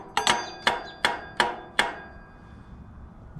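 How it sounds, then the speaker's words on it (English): A metal bowl struck with a screwdriver handle, five evenly spaced ringing metallic whacks that each decay briefly, close by, followed by quiet. "Just whack the bowl a bunch of times with some screwdriver handle"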